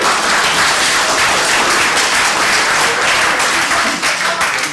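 An audience at a local political question-time event with a Liberal Democrat leader breaks into steady, dense applause with some cheering, loud and sustained throughout.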